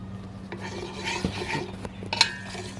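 Panang chicken curry with coconut milk being stirred in a pan over a campfire firepit, heard as close scraping and rubbing strokes with occasional metallic clinks.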